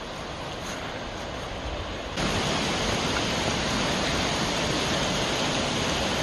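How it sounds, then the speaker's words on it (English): Yahoo Falls, the tallest waterfall in Kentucky, roars as a steady broadband rush of falling water, growing noticeably louder partway through and then holding constant, with no voices. "Tallest waterfall in Kentucky, Yahoo Falls."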